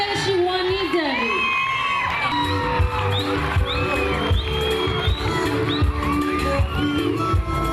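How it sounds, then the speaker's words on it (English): Crowd at the Golden Water Carnival in Fiji cheering and whooping, with scattered shouts and a voice over a public address mixed into the noisy, lively din. "A big round of applause"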